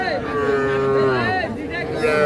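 Calves low loudly at a busy cattle market, with long drawn-out moos close by and overlapping, sustained over a steady crowd hum.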